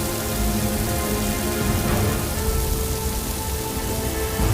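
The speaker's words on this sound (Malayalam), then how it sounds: "പെട്ടെന്നൊരു മഴ." Sudden heavy rain pours down in a dense, steady hiss with a low rumbling undertone, loud and close throughout and without any voices.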